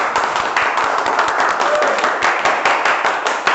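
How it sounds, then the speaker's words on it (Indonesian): Students in a classroom clap together after a presentation, a brisk burst of many hands that stays loud and steady for a few seconds without voices over it. "Oke, kita berikan tepuk tangan ya."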